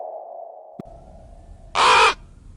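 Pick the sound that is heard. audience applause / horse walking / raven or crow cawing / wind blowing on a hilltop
raven or crow cawing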